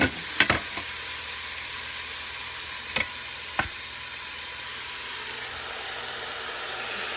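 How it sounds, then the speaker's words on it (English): Onions and celery sauté in a Cosori electric pressure cooker, a steady moderate sizzle punctuated by a few sharp utensil clicks near the start and middle. "I'm going to let it saute for another 30 seconds or something."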